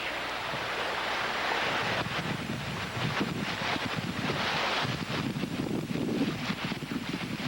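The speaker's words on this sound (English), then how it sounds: "Water running right on it." Water running across a farm field near a corn piece, a continuous rushing wash with wind buffeting the microphone, steady and fairly loud throughout with no talk.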